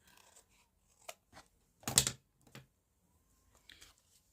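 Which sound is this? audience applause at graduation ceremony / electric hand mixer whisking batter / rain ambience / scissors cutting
scissors cutting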